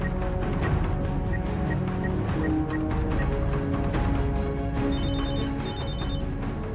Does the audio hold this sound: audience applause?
no